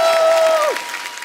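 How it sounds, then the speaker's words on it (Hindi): Studio audience at a comedy talk show applauding, a dense wash of clapping heard close and steady through the short moment, with a brief sustained tone fading out early on. "तो एक बार अक्षय बाजी और परिणीति के लिए जोरदार तालियां हो जाए।"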